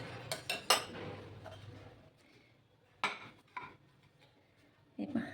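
A metal utensil clinks and scrapes against a pot while black pepper is mixed into food for parathas: several quick, close chinks at the start, then quieter stirring and a few isolated clinks.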